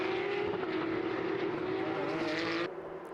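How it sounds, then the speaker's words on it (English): A Porsche race car at the Red Bull Ring, stalled while trying to select reverse, engine still idling: a steady, droning motor tone heard from a distance, dropping slightly near the end. "Engine is still running."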